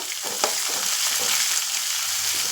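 Nuts, green chili and ginger fry in a pan for upma with a dense, constant sizzle and a sharp clink of the stirring utensil near the start, with no voices.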